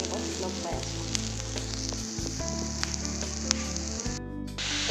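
Chickpeas frying with dhekia fern in a pan, a steady close sizzle running throughout, with occasional stirring clicks and no talk.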